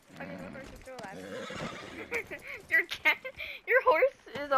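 Horse neighing and whinnying in Red Dead Redemption 2, several loud high-pitched neighs with fluttering breaths in the second half, following a stretch of game noise and hoofbeats, with voices talking over the opening.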